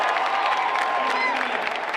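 A large crowd of educators at a public education rally in Indianapolis applauds and chants, a steady dense wash of clapping and voices heard from within the gathering.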